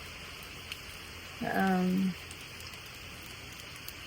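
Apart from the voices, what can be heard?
heavy rain during Hurricane Helene at night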